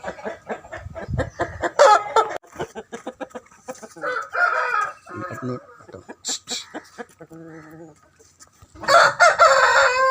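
Aseel breed rooster offered for sale, crowing loudly with clucks between calls, close by and repeated several times, while people talk over it in the background.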